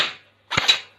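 Two sharp, loud gunshots about half a second apart, close by, each with a short decaying tail and no talking.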